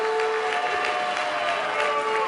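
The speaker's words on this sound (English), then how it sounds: "I just can't imagine somebody booing." Crowd noise from a Republican presidential debate audience, a steady dense wash of voices that could be booing, loud and continuous throughout with no clear breaks.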